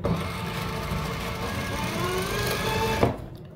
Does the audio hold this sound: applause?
no